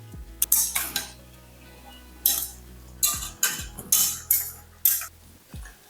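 Spoon scraping and clinking against a pot while rice is mixed for chicken biryani, several irregular bursts of metallic stirring with short gaps between, close and moderately loud.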